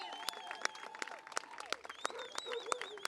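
A crowd applauding a team, with dense clapping throughout, rising and falling in intensity, and voices calling out over it.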